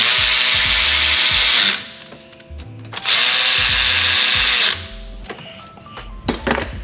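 A 3/8-inch impact gun on a wobble extension runs a bolt in on a Porsche 996/997 during axle boot repair, two loud sustained bursts of whirring rattle separated by a short pause, then lighter clicks and clanks of tool handling.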